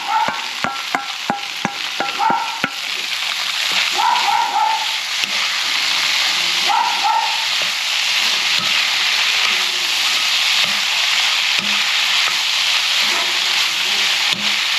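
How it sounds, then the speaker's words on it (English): Chicken and tofu sizzling and hissing in a hot frying pan, with sharp clicks and scraping stirs early on, steady crackle throughout. "Can you hear that sizzle?"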